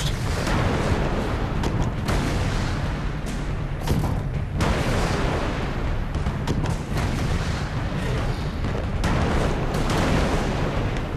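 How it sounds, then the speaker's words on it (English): Continuous heavy booming and rumbling barrages from a crab enemy firing cannonballs underwater in the game Alice: Madness Returns, loud and dense throughout with repeated blasts and no talking. "Crab, why are you shooting cannonballs?"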